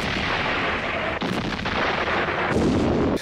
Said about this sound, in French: Boulet de canon sur boulet de canon.